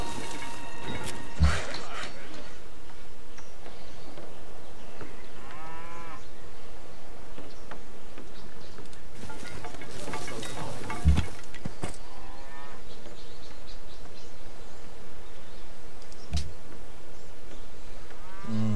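Cows moo in the video game Civilization V, a few drawn-out lowing calls spaced over a steady ambient bed with faint trickling water.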